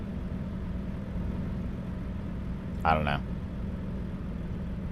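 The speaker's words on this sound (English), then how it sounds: "So you still hear the engine." Truck engine idling in American Truck Simulator, a steady low rumble running under the whole stretch, with a brief spoken remark partway through.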